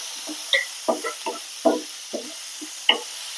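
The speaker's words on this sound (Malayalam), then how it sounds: "ഉള്ളിയും തക്കാളിയൊക്കെ ഒന്നിച്ചിട്ട് നന്നായിട്ടൊന്ന് വഴറ്റുക" Onion and tomato are sautéed together in a pan, with a faint sizzle under irregular scrapes and soft knocks as the mixture is stirred, about eight distinct strokes in a few seconds.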